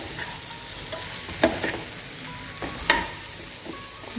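Raw green mango bhaji is stirred in a pan, a soft sizzle under a few sharp spoon scrapes against the metal, close and with no talking.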